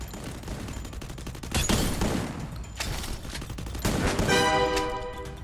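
Shotgun blasts ring out in the Free Fire video game, several loud, sharp bursts spaced a second or so apart over a steady background of game noise.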